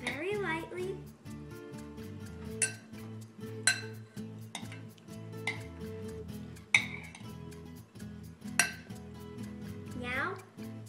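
An avocado salad being gently mixed in a bowl, with scattered sharp clinks and scrapes of a utensil against the dish over a continuous tonal background.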